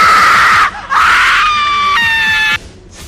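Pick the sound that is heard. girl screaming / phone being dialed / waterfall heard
girl screaming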